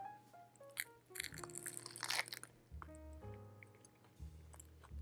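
A bite into a tall vegan, gluten-free, oil-free veggie burger gives a few close crunching and squishy chewing sounds over soft background music.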